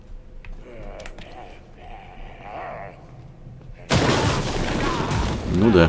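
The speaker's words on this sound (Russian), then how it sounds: "Очередной взрывной болт." An explosive bolt detonates in the horror video game The Evil Within 2. A loud, sudden blast follows quieter in-game ambience and someone talking, then a crackling rumble lingers to the end.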